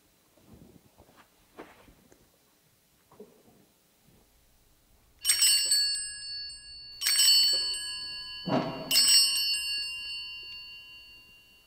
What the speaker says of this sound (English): our worship today will begin in just a moment with the chiming of the bells